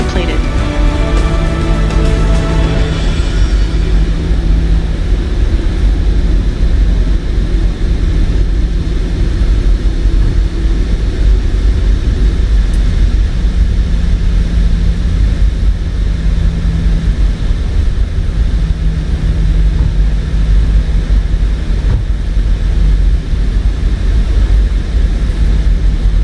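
Airliner engines in Microsoft Flight Simulator spooling up for takeoff, a loud steady roar and rumble that holds continuously throughout.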